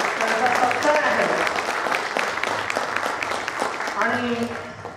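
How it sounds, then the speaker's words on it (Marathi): Audience at a school batch reunion get-together applauding loudly, a dense steady wash of clapping lasting several seconds with voices mixed in underneath. "सर्वांनी जोरदार टाळ्या वाजवल्या"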